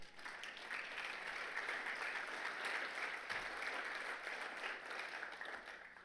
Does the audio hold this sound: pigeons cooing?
no